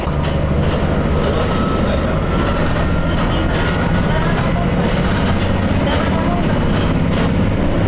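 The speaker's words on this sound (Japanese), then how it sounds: "さすがに1両編成のディーゼルカーに乗ると旅行してるって感じが出ますね。" Inside a single-car diesel railcar on the move, a steady engine drone and rolling rumble run continuously and loudly, with faint track clatter.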